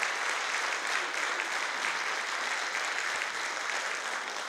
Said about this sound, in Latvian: Aplausi kolektīvu vadītājai!